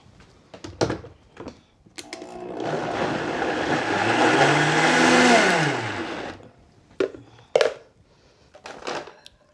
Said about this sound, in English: I'm gonna give this a quick blend.